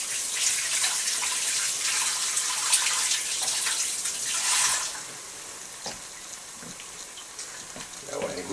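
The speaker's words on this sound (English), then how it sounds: "wash off my hands here" Hands are washed under a running tap in a kitchen, a steady hiss of water that stops partway through, followed by faint drips and small movements.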